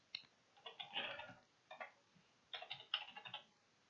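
A password is typed on a computer keyboard during a Fedora 22 Beta installation, with quiet clusters of close key clicks in irregular bursts separated by brief pauses.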